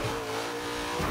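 Chevy Nova engine revving hard in the Forza Horizon 3 racing game, a loud, brief surge of engine roar lasting about a second.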